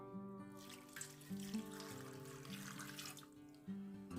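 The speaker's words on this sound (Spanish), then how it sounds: "Los vamos a colocar ahí en la olla, le vamos a poner agua." Water runs steadily into a cooking pot holding sweet potatoes, a faint continuous pouring splash close by with no talk.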